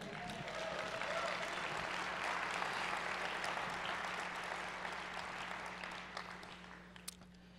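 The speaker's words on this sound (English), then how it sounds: "let's give this man some love and let's clap it up for him" A conference session audience at SXSW Interactive 2014 claps for a speaker; broad, sustained applause from a sizeable crowd that gradually thins and fades toward the end, leaving a few scattered claps.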